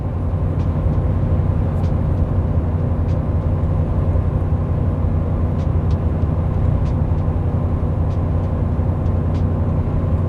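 A Chevy 1500 pickup with a 6.2L V8 pulls hard while towing near 3,500 RPM, giving a loud, steady, deep engine drone that holds without a break.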